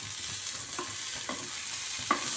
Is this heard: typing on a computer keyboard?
no